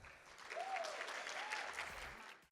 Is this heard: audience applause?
yes